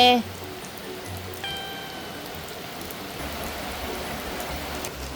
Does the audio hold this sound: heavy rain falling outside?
yes